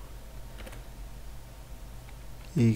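Soft keystrokes on a computer keyboard while website frontend code is written, a light, steady patter of clicks up close, ending in a brief louder burst.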